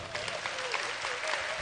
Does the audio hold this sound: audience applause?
yes